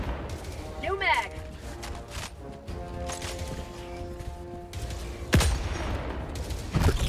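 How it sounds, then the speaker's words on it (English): Rocket devastators fire in the shooter game Helldivers 2, with scattered bursts and heavy impacts spread across the stretch and a loud hit near the end, mixed under ongoing talk. "I'm getting shot at by fucking rocket devs over here."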